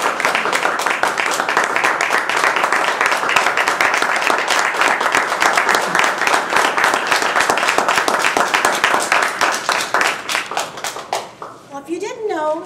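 An audience at a speakers' master class bursts into sustained, dense applause that carries on for a long stretch before thinning out, with a voice starting to speak as the clapping fades.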